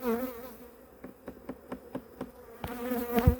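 Honeybees buzzing close by at a hive, a steady drone with a series of short rhythmic taps and a louder bump near the end.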